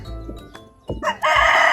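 Chickens cluck close by in short bursts on a farm, then a rooster breaks into a loud, sustained crow.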